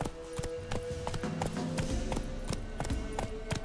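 Roach, the horse from The Witcher 3, gallops in a steady clip-clop of hoofbeats, close and fairly loud over low game ambience, with no talk.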